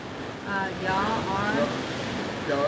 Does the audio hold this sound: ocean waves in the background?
yes